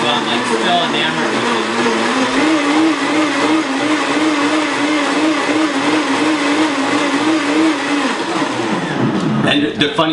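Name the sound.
Super Blend Tech blender blending fresh juice with ice on smoothie setting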